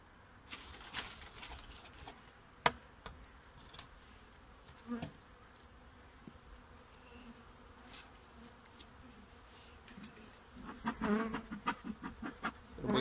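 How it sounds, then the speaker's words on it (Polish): Honeybees swarming up from a hive opened for its first inspection after winter: a dense, steady buzzing drone from many bees fills the whole stretch, with scattered clicks and knocks from handling and a louder burst near the end. "Pszczół jest bardzo dużo."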